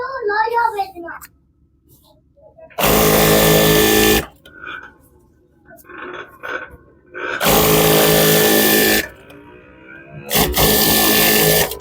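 A sewing machine stitches a trouser leg seam in three loud, steady runs of a few seconds each. A voice talks quietly in the pauses between them.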